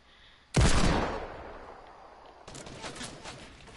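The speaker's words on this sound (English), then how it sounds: "combat shotgun, so why am I shooting a shotgun?" A single loud combat shotgun blast from a video game, with a sharp attack and a long decaying tail, followed by a brief second burst of gunfire and lingering noise.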